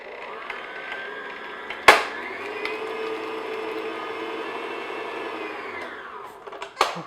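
An electric mixer beats an egg at medium-low speed, making a steady whirring hum that lasts several seconds, with sharp knocks against the bowl at the start and the end.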